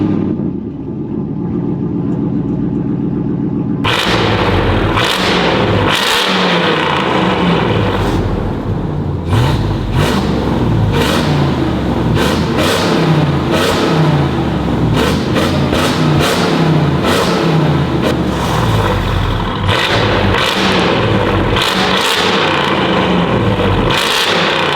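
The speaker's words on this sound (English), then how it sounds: "We're gonna show you guys how wild it sounds with the valves open with some tunnel runs" A RAM TRX truck with its exhaust valves open revs hard through a tunnel, a loud, continuous, echoing engine roar with repeated throttle blips and surging rises across the whole stretch.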